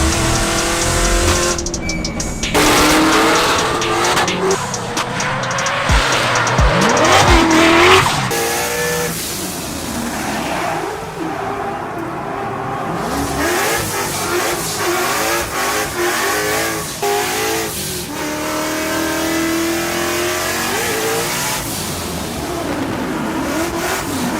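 A race car engine revs hard on a road race track, rising and falling through gears with tire squeal and skidding, loud and close for the whole stretch.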